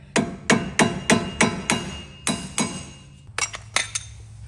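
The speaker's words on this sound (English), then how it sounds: "Let's get you a flat head and a hammer." A hammer strikes a flathead screwdriver repeatedly while removing a vehicle axle, in a steady rhythm, about a dozen sharp ringing blows, loud and close, with a brief pause near the end.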